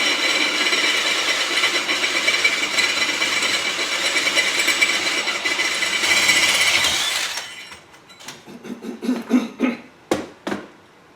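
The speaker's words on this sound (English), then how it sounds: "Now we'll go ahead and tap that out." Tapping threads into a freshly drilled 17/64 hole in the end of a hydraulic winch drum: a long steady grinding, whirring run from the tool, then it cuts out and a handful of sharp metallic knocks and clinks follow close by.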